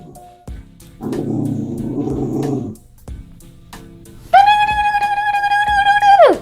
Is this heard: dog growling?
yes